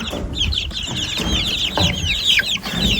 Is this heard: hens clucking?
yes